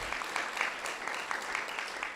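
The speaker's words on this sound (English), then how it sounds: "you may applaud Father Keith" Applause from a parish audience greeting a clergy member, a steady patter of many hands clapping at moderate volume, continuous and fairly distant, with faint voices underneath.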